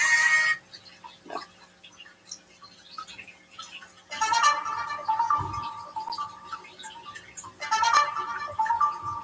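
A phone ringtone plays while ringtones are being previewed and chosen, a bright melodic tone in short bursts with pauses, fairly close and clear, with no talking over it.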